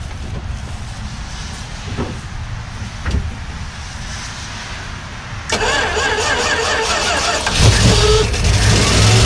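A Dodge Ramcharger with a 318 V8 and true dual 2-inch pipes cranks in a steady rhythmic grind for several seconds, then catches and fires up into a loud, rough idle that swells with a rev near the end.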